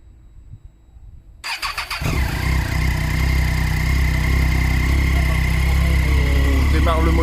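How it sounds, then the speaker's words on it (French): A used motorcycle engine cranks briefly on its electric starter and fires on the first try, then settles into a loud, steady, close idle rumble. There is quiet room sound before it starts. "vérifier que la machine se lance bien au premier coup de démarreur"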